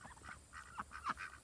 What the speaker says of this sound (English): Here's our little ducks.